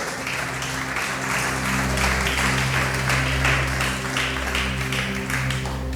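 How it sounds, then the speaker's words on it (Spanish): Church congregation applauding during a Spanish-language sermon, steady dense clapping that holds for several seconds over a sustained low organ or keyboard drone. "Dale ese aplauso al Rey de Reyes."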